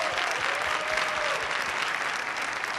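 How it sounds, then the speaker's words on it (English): Audience applause at a Martin Luther King Jr. celebration in Columbus, steady sustained clapping from a large crowd in a hall, even and continuous throughout. "these young people here deserve another round of applause"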